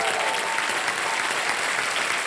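Loud, sustained applause from a TV quiz show studio audience, a thick, even wash of many hands clapping with no break.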